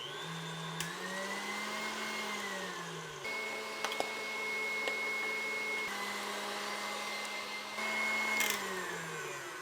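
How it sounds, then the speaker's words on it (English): A stand mixer locked and running on high whips cream, a steady motor whine with a low hum that holds throughout and shifts pitch slightly a few times, with no voices. "I'm gonna lock my mixer and we will just put this on high until it makes whipped cream"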